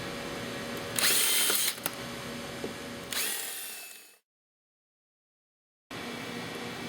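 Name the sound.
drill with 3/16 bit drilling out rivets on steering post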